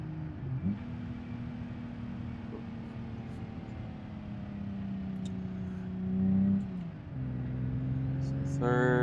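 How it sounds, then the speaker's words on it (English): Stock turbocharged car engine in the BeamNG driving game revving and shifting through the gears, a steady droning engine note rising in pitch, dipping at a gear change around the middle, then climbing again. "I love how the turbo sounds."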